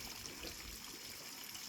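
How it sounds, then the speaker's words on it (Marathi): Water poured onto hands on a building site, a faint steady trickle and splash, no talking. "दादा हातावर पाणी."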